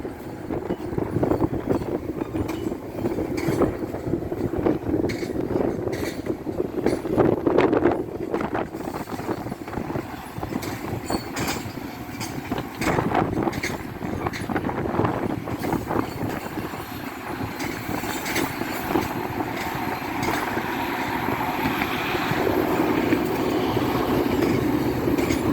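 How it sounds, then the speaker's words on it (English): Several Chicago trains pull out of the station, a continuous rumble with rail clatter and some wind noise on the microphone, fairly steady and no one speaking. "There are two other trains coming out."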